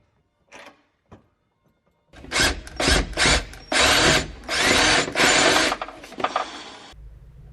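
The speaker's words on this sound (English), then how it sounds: "Then we added a lock nut and used a socket wrench ratchet thingy to tighten everything." Socket wrench ratchet tightening a lock nut during a Ford Transit Connect van bed build, a few faint clicks, then a run of loud, close ratcheting bursts in steady strokes.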